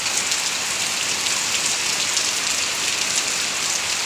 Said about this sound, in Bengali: খুব সুন্দর বৃষ্টি চলে আসছে